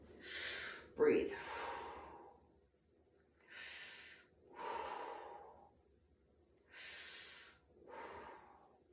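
Slow, deep breaths during a yoga exercise, each long airy inhale or exhale rising and fading in a steady rhythm, close and fairly quiet, with a sharp gasp near the start.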